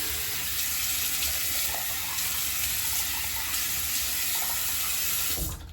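Tap water runs steadily into a sink, a loud continuous broadband rush that holds for nearly six seconds before cutting off abruptly at the end.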